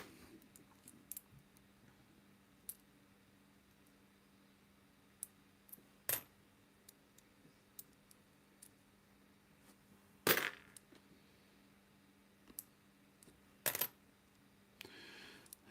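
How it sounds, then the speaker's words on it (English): Australian 1 cent coins being sorted by hand, with a few sharp metallic clinks and drops scattered across a quiet background, plus faint small clicks of coins shifting in between. "These are all 1 cent coins there."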